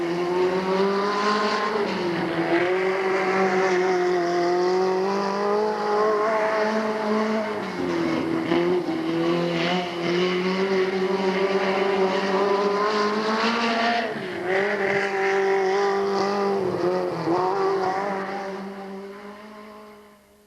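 A 1600cc four-cylinder Toyota-powered race car at a speedway howls at high revs with a continuous buzzing engine note that dips and climbs through gear changes, loud and close, fading away near the end.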